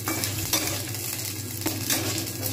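Onions stir-frying in a nonstick kadai over moderate heat: a steady close sizzle with scraping stirs and light utensil knocks against the pan, no voices.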